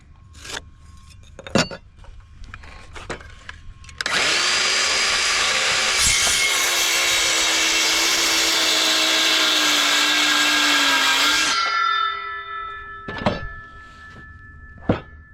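A power tool drives screws into bowed wood in one loud, continuous whir lasting about seven seconds, bracketed by sharp knocks and clatters, with no talk.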